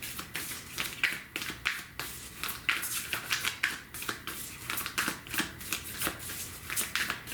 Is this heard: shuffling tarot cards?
yes